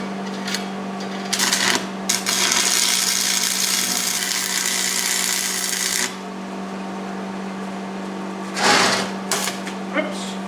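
Steel plates are welded together while building a custom forge, giving a harsh, buzzing crackle in one long burst of about five seconds and a later short burst, over a steady background hum.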